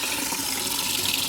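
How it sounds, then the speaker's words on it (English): Water gushes steadily from an open sink tap, a loud continuous broadband splashing rush with no pauses. "I'm just going to turn on the water."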